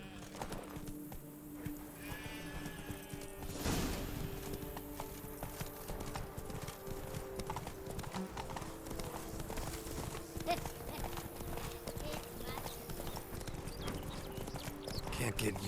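The Witcher 3's horse Roach trots with a brisk, even clip-clop of hooves, close and continuous under ambient game sounds, with a voice briefly speaking.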